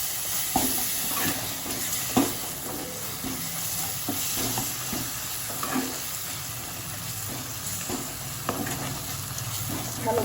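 Ginger-garlic paste sizzles with spices, including Kashmiri chili powder, in a pan while chicken keema is cooked; the frying hiss is steady, broken by occasional scrapes and stirring clatter, with no talk.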